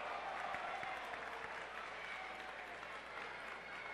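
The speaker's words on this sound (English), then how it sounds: "Crowd seems to agree with that call." A high school basketball crowd at Chaminade vs. East St. Louis applauds a foul call, sustained clapping and crowd noise filling the gym at a moderate distance, with faint talk mixed in.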